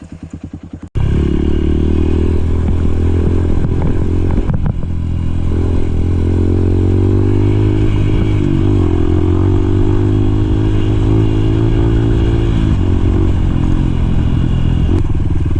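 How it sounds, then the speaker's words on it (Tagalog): Enduro motorcycle riding over sharp rocks, the engine loud and close, droning steadily with rising revs and clattering from the terrain, no voices. "Napakaangas nitong motor na to."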